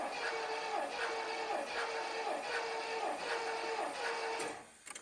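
Engine cranking on the starter during a cranking compression test with original 1.5:1 rocker arms; slow, even rhythmic chugging repeating about once per second, fairly faint, stopping just before the end.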